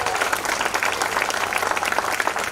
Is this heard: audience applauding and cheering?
yes